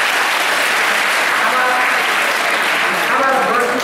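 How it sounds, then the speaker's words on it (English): A crowd at a mental math magic show applauds, loud continuous clapping filling the room with a faint murmur of voices mixed in underneath. "Give him a round of applause."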